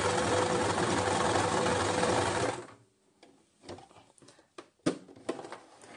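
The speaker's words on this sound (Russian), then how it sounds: "давайте возьмем мы обычную ровную строчку и будем шить" A sewing machine fitted with a twin needle runs a straight stitch in a loud, fast, steady whir for about two and a half seconds, then stops, leaving faint clicks and handling noises close by.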